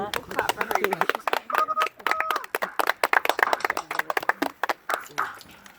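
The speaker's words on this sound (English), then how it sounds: "We'll clap for her." A small group claps for a graduate at a graduation ceremony, a brisk patter of nearby hands that rises and falls, with voices chatting over it.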